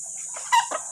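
Chickens cluck in a short burst, a few close clucks and squawks over a steady high background hiss.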